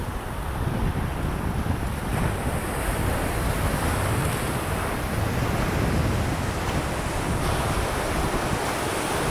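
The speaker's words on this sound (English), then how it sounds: "Oh, the waves about to crash over." Ocean waves surge and crash continuously at the foot of the Algarve cliffs in a broad, rushing wash of surf, mixed with gusts of wind buffeting the microphone.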